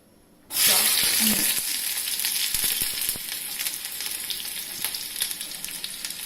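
Hot oil in a small pan breaks into a loud, steady sizzle as ingredients for khichdi go in, starting suddenly after brief quiet and crackling on close by with scattered pops and stirring.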